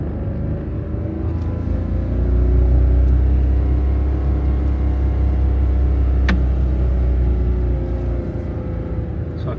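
A car labours uphill in first gear around a corner, its engine a steady low drone that swells and strains for several seconds before easing, with a brief sharp click partway through and no talking.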